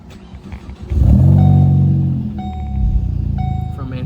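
A modified ST car's engine is started up, cranking and catching into a loud rev that settles to a steady idle, recorded close by.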